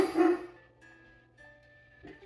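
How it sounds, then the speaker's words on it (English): A dog barks once loudly and close at the start, followed by a quiet room hum with faint tones and a soft thump near the end. "I do not know why the dog is barking."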